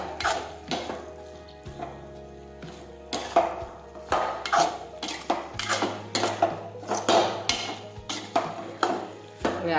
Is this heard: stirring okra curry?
yes